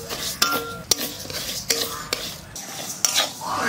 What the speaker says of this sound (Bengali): মুগ ডালটা একটু ভেজে নেব তার শুকনো খোলায় ভাজবো